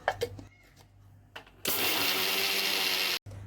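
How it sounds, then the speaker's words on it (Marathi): An electric mixer grinder pulverising roasted sesame seeds: after a few faint clicks, the motor kicks in with a loud steady whirring roar for about a second and a half, then cuts off abruptly. "इथे भाजलेले तीळ घेतलेत, आता ते आपण मिक्सरला बारीक करून घेऊ।"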